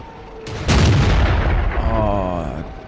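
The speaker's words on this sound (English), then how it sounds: "I couldn't actually get my gun up as high as I thought I could, and so I shot the ground." In World of Tanks, a tank gun fires into the ground just ahead, producing a single loud, close boom with a rumbling, ringing tail that fades over about two seconds.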